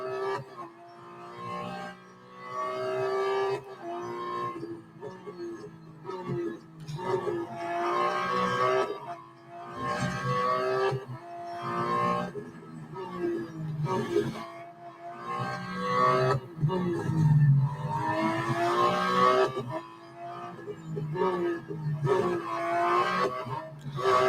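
A Porsche 911 GT2 RS Clubsport race car engine in the Real Racing 3 video game revs and shifts through rising and falling pitches while someone talks continuously over the engine noise.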